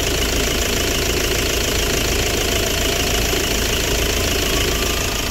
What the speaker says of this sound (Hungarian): itt jó mélyen van ugye ez a motor, de meg tudjuk hallgatni viszont.